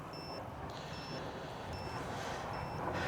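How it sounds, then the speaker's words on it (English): Drone beeping a low-battery warning on a DJI Vista digital quad build, four short even high-pitched beeps spaced about every 0.8 seconds over steady outdoor noise. "Well, something's beeping"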